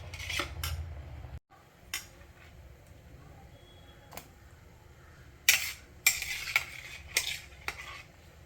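Fish curry simmering in a pot on an Indian home stove, stirred with a metal spoon: sharp scattered clinks and scrapes against the vessel over a quiet low bubbling, close by.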